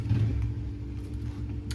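A motorcycle engine idles nearby, a steady low rumble with a slight throb that holds close and fairly loud for the whole moment, with no talk over it.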